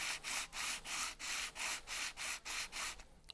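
Filler putty on the inside edge of a taped alloy wheel is sanded in quick, even back-and-forth strokes, about ten regular rasping passes, faint and close.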